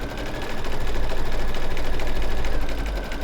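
An embroidery machine stitches the outline of an elf shirt design, a fast steady mechanical whir and rattle, close and loud, rising at the start and fading slightly at the end.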